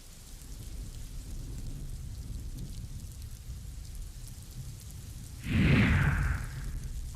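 Heavy monsoon downpour over Kolhapur, a steady broadband hiss of rain throughout, swelling into a brief louder rumbling surge near the end, with no voices.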